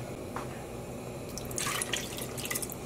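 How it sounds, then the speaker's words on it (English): Water pours into a dye pot of beets for yarn dyeing, a continuous close splashing and trickling stream that grows busier and louder midway, with no talking over it. "I do want to go ahead and add 2 more cups of water to here"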